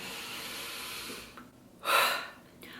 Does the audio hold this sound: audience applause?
no